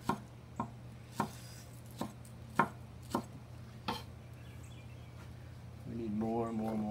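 A knife chops green onion on a board in a steady run of crisp, close thuds about every half second, then stops; a voice starts speaking near the end.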